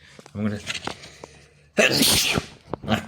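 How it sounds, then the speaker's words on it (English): A single loud, explosive sneeze bursts out after a stretch of quiet talking, with speech resuming briefly afterward. "I sneezed."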